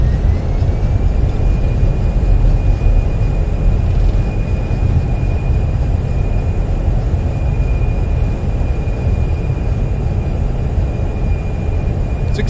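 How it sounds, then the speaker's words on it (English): Thrust reversers roar on a Fenix A320 landing in Microsoft Flight Simulator, a loud steady broadband rush with a thin sustained whine above it, holding for about twelve seconds without talk. "Reversers deployed."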